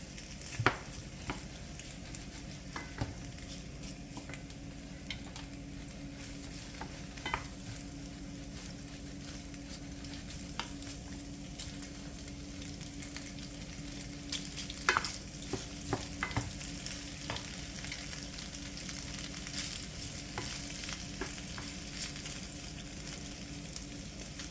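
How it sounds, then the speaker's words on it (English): Vegetables and pasta simmer in a pan for jerk shrimp rasta pasta, giving a steady low sizzle with soft bubbling and occasional stirring clicks and scrapes of a utensil against the pan, close by and continuous. "Just allow the aroma from the veggies to just simmer into the pasta."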